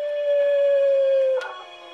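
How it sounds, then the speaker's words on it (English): Dogs or wolves in Assassin's Creed Brotherhood howl in a single long, steady, loud wail lasting over a second, then a brief yelp and fading tail, with no talking. "I hear puppies."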